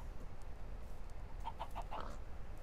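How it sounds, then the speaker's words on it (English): Minecraft chickens cluck in a quick run of four or five short, evenly spaced notes near the end, faint against a constant low hum, with no talking. "Chickens."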